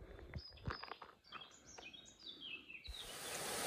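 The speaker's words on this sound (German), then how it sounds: "Die Vögel zwitschern." Small birds chirping and tweeting outdoors in a mountain valley in Slovenia, scattered high calls at moderate distance, followed by a rising rush of water noise.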